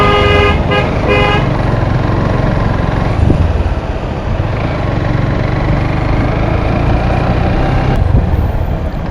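A BGB vehicle on a hilly road in Bandarban sounds a few quick, loud horn toots at the start, over a steady close engine drone that keeps running throughout.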